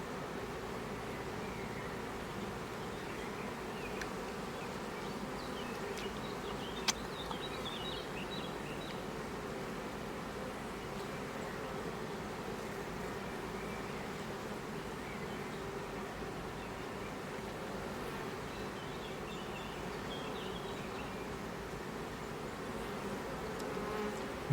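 Honey bees buzzing steadily around beehives at an apiary in Italy, a continuous soft drone of many insects with no talk, holding evenly throughout.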